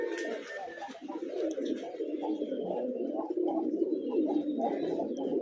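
Rooftop pigeons coo in a steady, overlapping rumble as they peck at crushed red brick dust, a continuous low murmur of the flock close by with faint chirps above.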